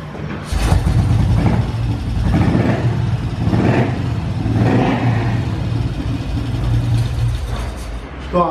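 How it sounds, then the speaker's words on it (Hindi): An old-model Royal Enfield motorcycle engine runs close by after its point setting, giving a steady low thumping idle with swells of revving throughout, with no voices. "एक बार आपको गाड़ी को स्टार्ट करके दिखा देता हूँ कि अब हमारी गाड़ी किस तरह स्टार्ट हो रही है"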